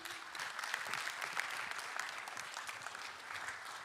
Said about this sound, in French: Vous pouvez regagner vos places sous un tonnerre d'applaudissements